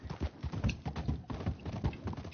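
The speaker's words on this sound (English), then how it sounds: "it looks like a very good horse" Horse hooves in the video game Red Dead Redemption 2 clip-clop in a steady, quiet trotting rhythm, with no voices.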